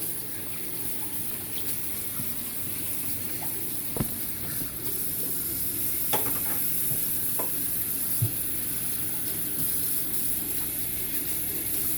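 Two eggs frying in a pan while making Liberian plantain gravy, a steady close sizzle and crackle with a few small clicks and pops, no talk.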